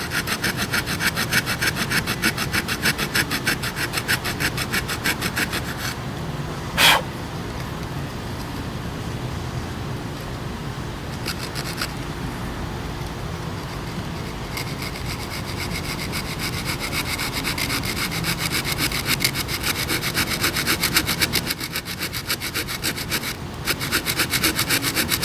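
An old wooden-handled hand saw cutting through wood in steady rhythmic back-and-forth strokes, close and loud, pausing briefly twice before resuming, with faint traffic in the background.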